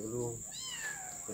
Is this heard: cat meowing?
yes